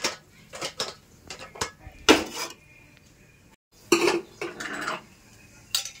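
A kadai is set down on the stove before frying fish eggs village style, producing a run of close metallic clanks and scrapes, a few louder bangs among softer knocks, with brief pauses between.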